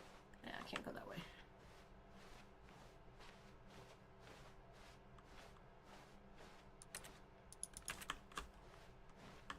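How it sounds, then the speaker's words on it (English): Clicking in The Stanley Parable: Ultra Deluxe that sounds like keyboard typing, a steady run of soft, close taps with a few louder clustered strikes, under a quiet background with some talk. "Oh, when I click on something, it sounds like a keyboard."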